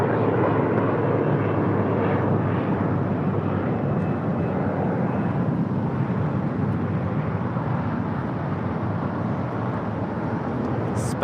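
A JetBlue airliner taking off from runway 25 right, a loud continuous jet engine roar holding steady throughout with no voices.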